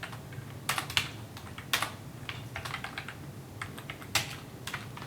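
Code being typed on a computer keyboard in Python 2.7 IDLE, irregular clusters of crisp close key clicks with short pauses between bursts, over a quiet room hum.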